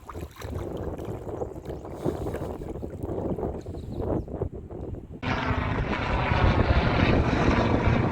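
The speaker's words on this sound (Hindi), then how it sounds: "हेलीकॉप्टर भी आ गया।" A helicopter passes overhead at an outdoor pioneer village, its droning rotor growing louder and steadier in the second half after a stretch of muffled, rumbling outdoor noise.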